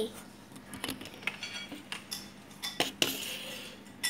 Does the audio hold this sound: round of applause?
no